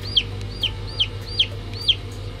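Laying hens in a flock give five evenly spaced clucks, one roughly every half second, over a steady low hum of background noise.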